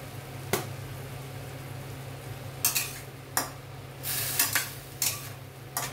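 Okra and potatoes being stirred with spices in a pan, giving a handful of sharp scraping and clinking spoon strokes over a low, steady background hum.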